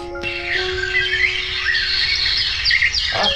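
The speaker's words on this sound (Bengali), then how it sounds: "ভোর হয়ে গেছে, পাখি ডাকের আওয়াজ শুনতে পাওয়া যাচ্ছে" Birds chirp and whistle in quick rising and falling calls, moderately close, over a faint steady hum.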